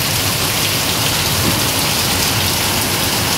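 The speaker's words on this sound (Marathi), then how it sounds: "हे बघा जोराचा पाऊस पडतोय" Heavy rain pours steadily onto a town street, a loud, dense, unbroken hiss of falling water close by, with no voices.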